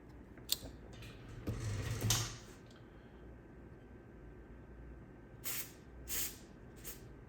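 Lubricant from an aerosol can is sprayed onto a Q-tip while servicing a classic floppy drive. Several short, quiet hissing bursts are separated by near silence.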